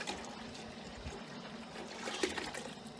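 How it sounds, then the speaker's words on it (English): A whole gallon of water poured into a container to make homemade grape soda, a steady close trickle and splash running alone without speech. "I'm putting all the water in."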